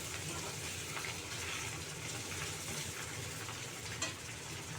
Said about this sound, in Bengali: পুরো কড়া করে ভাজা হোক ভালো করে লাল করে